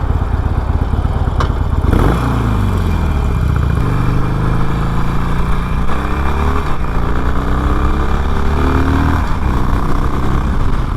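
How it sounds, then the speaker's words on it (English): A 2020 Harley-Davidson Roadster 1200cc Evo engine rumbles close by, revving and climbing through gears with a deep, steady throb and no talking. "I do really like the way that Evo motor sounds"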